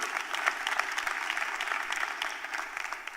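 An audience at an education town hall meeting bursts into sustained applause, a dense, steady patter of many hands clapping at moderate volume throughout, with no voices standing out.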